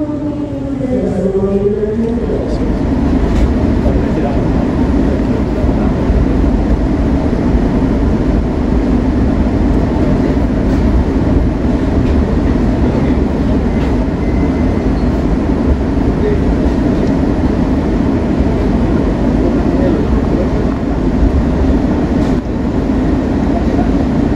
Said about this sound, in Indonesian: Perjalanan kereta api Majapahit sudah sampai di stasiun Kediri.